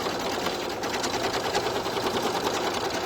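An in-the-hoop embroidery machine stitches a bow at high speed, giving a steady, dense mechanical whirr that runs evenly throughout, close and moderately loud, with no talking.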